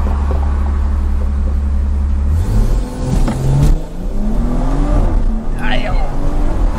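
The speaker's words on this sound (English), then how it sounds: "See if I can give y'all a little launch control." A BMW F30 340i with a catless downpipe launching hard from a standstill: a loud engine drone rises in pitch through the revs, up close from inside the car, with a voice briefly over it.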